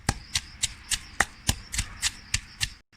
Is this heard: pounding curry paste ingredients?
yes